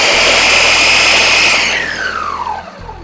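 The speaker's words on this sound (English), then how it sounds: "I have the blender full of watermelon, and we're going to give this just a quick little" A blender full of watermelon runs with a loud, close, high-pitched whir that churns the fruit. After a second and a half the motor pitch slides downward as the load changes, and the run ends with a brief stop.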